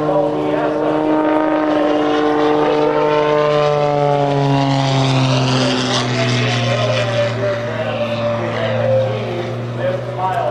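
An aerobatic aircraft performs at the 2008 EAA Oshkosh AirVenture airshow, its loud, steady propeller-engine drone shifting gradually in pitch while a voice talks over it throughout.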